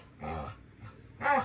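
Two short dog barks or yelps, close and moderately loud, separated by a brief quiet gap, no voices.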